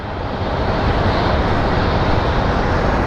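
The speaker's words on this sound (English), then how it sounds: "You don't get the sound up close of planes on the runways like you do here." Airliners on the runway at Phoenix Sky Harbor Airport produce a loud, continuous, rumbling jet roar that fills the whole stretch without letting up.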